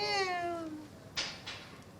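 A single drawn-out cat meow, close and clear, followed by a couple of soft brief knocks in a quiet room.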